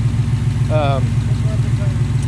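A Ford Mustang engine idles with a steady low hum throughout, with a brief voiced sound rising over it partway through.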